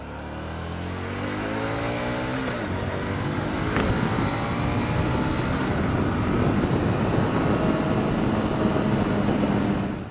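A Harley-Davidson Street 500 cruiser motorcycle rumbles as it pulls away, the engine note climbing through gears and then holding a steady, loud drone close by.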